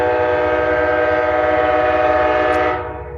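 A train rolls past on nearby railroad tracks with a steady, loud rumble and a sustained horn-like tonal blare that holds for most of the stretch before fading off near the end.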